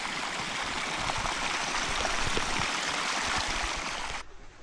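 After heavy rain, water pours steadily out of a pipe with a loud, continuous rushing and splashing close by that holds for several seconds before cutting off abruptly.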